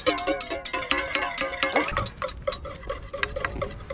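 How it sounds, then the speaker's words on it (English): Egg, melted butter and a dry mix are lightly stirred together outdoors at a wild camp, giving a run of quick, close scraping and tapping strokes against the bowl, steady at first and then more scattered. "Now only mix it lightly, okay?"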